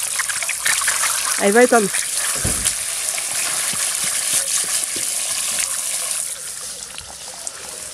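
Water spurting in a steady gushing hiss from an overfilled, punctured water balloon in a bunch of balloons, with a voice talking over it, fading down near the end.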